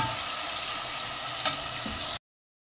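Chopped tomatoes, four medium ones for achari dal, fry in a hot pan with onion and garlic, giving a loud, even sizzle with a brief stirring scrape before it cuts to silence near the end.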